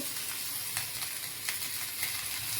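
Stuffed bombil (Bombay duck) fish sizzle quietly in a pan over a low gas flame, a soft continuous hiss and crackle with a few small pops and no voices.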